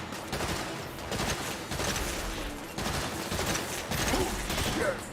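Gunfire from Eli in a 2022 Saints Row combat scene, a continuous rattle of rapid shots layered over loud battle noise, with no pause across the whole stretch.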